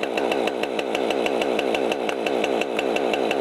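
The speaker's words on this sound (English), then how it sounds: "Before he lifts the saw, he's going to blip the throttle, that returns the engine to idle." Chainsaw engine running steadily just after starting, its two-stroke buzz loud and close with a rapid, even pulsing rhythm and no voices over it.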